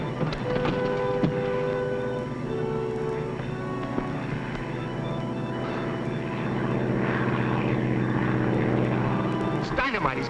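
A propeller airplane drones overhead in a 1944 film scene, its engine a continuous loud hum with wavering tones throughout, while people talk beneath it.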